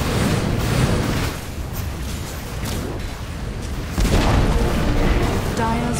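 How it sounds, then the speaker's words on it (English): A tower collapsing in Dota 2, heard as heavy booming crashes and rumbling debris, with a loud burst early on and a second strong impact near the end, over a constant busy game backdrop. "Dire's bottom tower has fallen."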